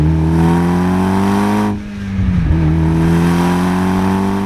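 A tuned Mitsubishi EVO X pulls hard out of a corner, its engine drone rising loudly, briefly cutting out on a gear change, then climbing again with strong, steady revs up close.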